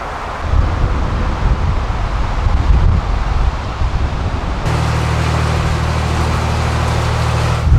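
Strong wind buffets the microphone in a steady, loud roar beside a narrowboat under a motorway bridge on a canal, with low rumbling gusts throughout and a deeper droning hum joining partway through.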